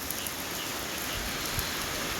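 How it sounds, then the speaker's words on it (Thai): Continuous heavy daytime rain patters and hisses steadily against a window, a soft even wash of drops striking the surface with no voices over it. "ฝนสาดเข่าทั้งหน้าต่าง"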